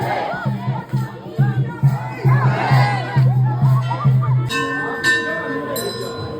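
A large crowd of worshippers at a Mahadev temple on a cold New Year's Day makes a dense, steady hubbub of voices and chanting, with bell rings near the end.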